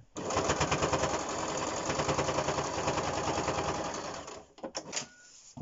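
A sewing machine runs a steady second line of stitching on a fabric face mask, a close, continuous rapid whirring chatter for about four seconds before slowing and stopping with a few clicks.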